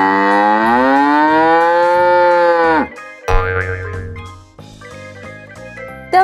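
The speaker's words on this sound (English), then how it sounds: "The cow makes a loud sound." A cow lets out a long, loud moo, followed by a bouncy cartoonish boing and jaunty music.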